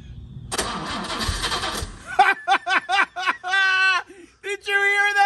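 An original 1966 Jaguar E-Type engine cranking for the first time in 52 years, a rough two-second burst of churning that cuts off, followed by excited voices talking close by.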